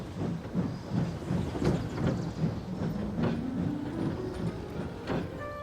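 A train rolls along the rails with a rhythmic clickety-clack of wheels over joints, a steady rumble and a rising tonal whine, heard up close without voices.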